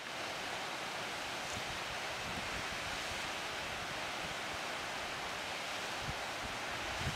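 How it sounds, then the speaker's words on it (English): A waterfall cascading onto snow roars continuously and evenly, a broad wash of dense rushing water with no voices over it. "There's a waterfall kind of cascading down onto the snow."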